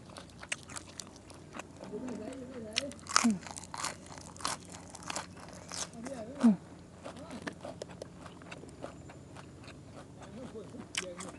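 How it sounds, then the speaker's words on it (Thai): Raw garlic and fermented pork sheets being bitten and chewed, with several crisp crunches standing out against a steady background of smaller chewing and mouth sounds. "กัดกระเทียมขอไปพี่น้องเอ้ย"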